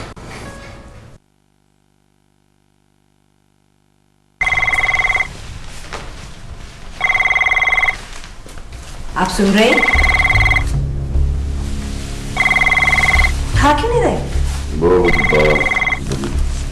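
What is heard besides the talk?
telephone ringing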